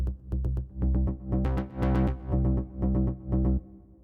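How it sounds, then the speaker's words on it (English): A main bass pattern is rhythmically ducked by The Pulse plugin, pumping in regular swells about every half second, with clicky percussive hits on top, playing alone and fading out at the end. "It also creates the rhythmic pattern of the main bass, which sounds like this."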